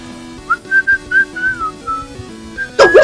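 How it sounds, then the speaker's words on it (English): A person whistles a short wavering tune in several quick phrases, close and clear, with a low background hum from a Minecraft game session and a brief louder burst of noise at the end. "Stop whistling, please!"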